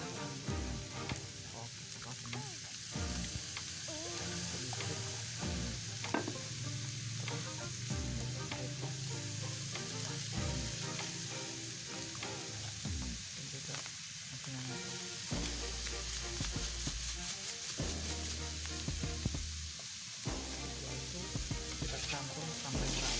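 Vegetables such as cabbage, carrot, onion and chili are stir-fried with garlic in a pan, giving a loud, continuous sizzle with frequent scraping and clattering as they are tossed.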